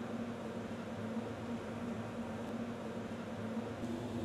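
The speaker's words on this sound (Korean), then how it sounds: "지금 이게 이제 깨 볶는 과정인 거죠?" A sesame seed roasting machine runs steadily at a small rural sesame processing business, giving off a constant mechanical hum and whir with a low droning tone. The noise stays even throughout, with no voices.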